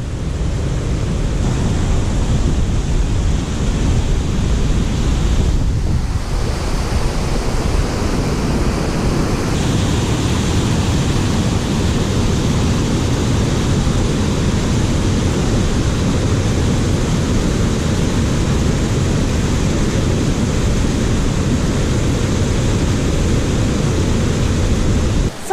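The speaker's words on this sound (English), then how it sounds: "and then suddenly there's a waterfall through the trees." Devil's Punchbowl Falls at Arthur's Pass roars continuously, a loud, dense, unbroken rush of falling water heard close up for the whole stretch with no talking.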